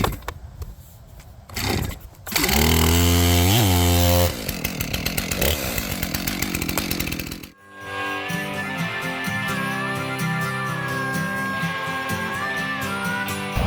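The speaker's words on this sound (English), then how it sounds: "we are using my Stihl MS-291 chainsaw today." A Stihl MS-291 chainsaw, a 55.5 cc saw of about 3.8 horsepower, bucks big ash logs into firewood, loud and close, its engine revving up in surges between idling stretches, then settling into a sustained cutting whine through the wood.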